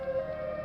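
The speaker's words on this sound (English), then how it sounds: "it's a tornado siren, which is broken, which is why it sounds like this" A broken tornado siren wails in a steady, thin, flat-pitched drone, held without rising or falling, fairly loud and alone.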